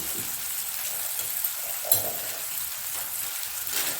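Onions and spices for vada curry sizzle steadily in a hot pan, a dense continuous frying hiss with a faint clink of a stirring spoon midway and no voices.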